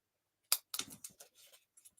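Scissors cut paper during stamping crafts, with a sharp first snip followed by several quieter, uneven slicing snips, close and alone.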